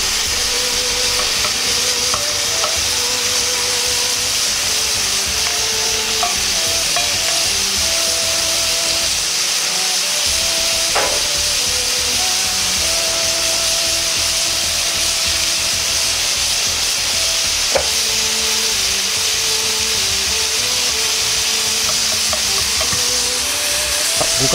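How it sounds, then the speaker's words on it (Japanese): Pork belly frying in a preheated frying pan with no added oil, a steady dense sizzle throughout with occasional faint scrapes and clinks, loud and close. "ある程度フライパンが温まったらバラ肉を入れ炒めていきます。"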